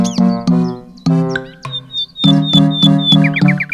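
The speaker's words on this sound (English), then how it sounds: "Above their heads, the nightingale began its lovely song." A nightingale sings close and clear, with no other sound: bright whistled phrases and repeated notes broken by short gaps, ending in a quick series of rising trills.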